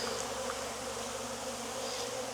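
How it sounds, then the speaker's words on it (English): Dense, steady buzzing of many honeybees swarming close around a hive frame in Jacksonville, Florida, a continuous drone with occasional louder passes of individual bees. "God, there's so many bees."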